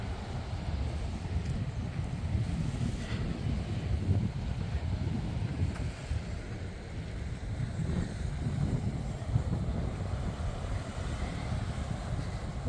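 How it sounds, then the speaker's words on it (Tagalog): Strong wind blowing at John Smiths Bay beach in Bermuda during a storm, a continuous low roaring rumble with gusty swells and buffeting across the whole stretch. "Medyo mahangin ngayon."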